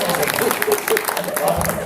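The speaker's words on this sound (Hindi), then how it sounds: "भाई विश्वास के लिए तालियां बजा दो" Audience applause at a Hindi kavi sammelan poetry gathering, a steady wash of clapping from a crowd lasting the whole moment, with a voice faintly carrying over it.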